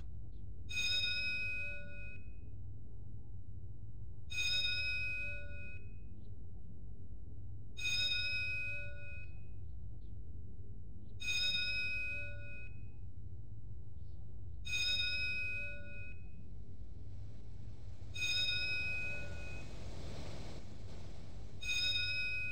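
A stock ding-dong doorbell chime repeats six times at regular intervals of about three and a half seconds, each ring bright and ringing out over a low background hum, with no voices.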